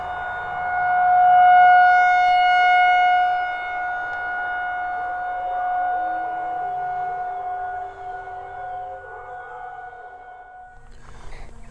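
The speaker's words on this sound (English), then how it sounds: "the tornado siren's going off" A tornado siren wails steadily at a distance, its sustained rising and falling tones holding for several seconds before fading near the end.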